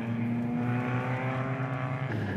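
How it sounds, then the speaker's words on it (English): A Porsche race car roars through turn 4 during a race, its engine a steady close drone with a sustained tone that holds throughout. "Peter Jenkins currently leading the race, laps Kubus Brits in the Porsche through turn 4."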